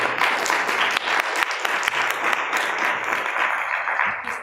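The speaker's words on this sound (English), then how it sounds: "let's give a warm Lancaster round of applause to Kerry" Warm applause from the audience at a marketing conference in Lancaster, a full, steady crowd clapping with some crisp individual claps punctuating it throughout.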